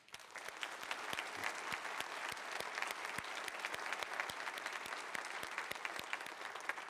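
Audience applause at a history talk on the World War II era, a steady, even wash of many hands clapping throughout, fairly faint and distant, with no voices.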